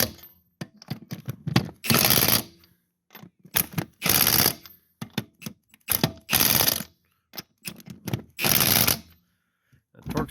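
An impact wrench snugs the lug nuts on a Jeep JK during a brake job. It fires four short, loud, rattling bursts, separated by quieter clicks and handling noises.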